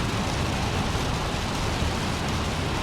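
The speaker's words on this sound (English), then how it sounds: "And it's starting to rain." Rain patters steadily on an Airbus A320 during its approach, a dense, even hiss that stays constant and fairly loud throughout.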